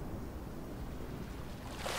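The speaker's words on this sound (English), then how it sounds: "the waves become softer." Ocean waves wash up on a beach in a soft, steady surf hiss. The sound is faint and distant and continues evenly without distinct breaking crashes.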